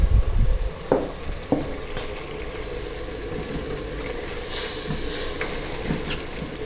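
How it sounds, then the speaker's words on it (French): Chopped, cleaned vegetables for Tunisian msoki slipped into a simmering pot, a few soft splashes and knocks at the start, then a steady low bubbling simmer. "On met les légumes qui sont déjà coupés et nettoyés et tout dans la marmite qui était en train de mijoter."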